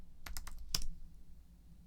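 Quick clatter of keystrokes on a computer keyboard, a handful of light taps close by in a quiet room, then silence.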